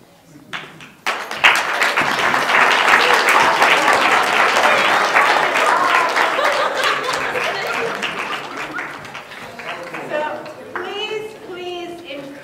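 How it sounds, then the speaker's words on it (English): An audience applauds a group of performers after a stage show: clapping swells in after a quiet opening, holds strong, then thins out as a few voices talk near the end. "Give them a round of applause."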